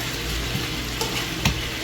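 Chicken fries in a pan with a steady, close sizzle, broken by a few soft knocks of stirring.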